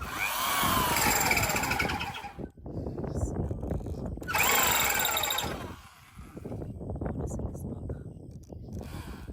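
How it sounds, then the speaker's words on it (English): A power drill, held in both hands, whines in two long bursts with a short pause between them, loud and close, with people talking over it. "holding the drill carefully with 2 hands as usual"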